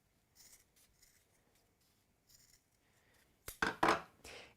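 Scissors snip through folded paper in a few quick, close cuts, with a couple of faint earlier snips before the louder final strokes.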